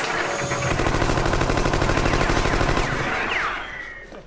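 A comedy sketch's mock scorpion device fires bullets in a loud, continuous machine-gun burst lasting about three seconds, then fades into a ringing tail.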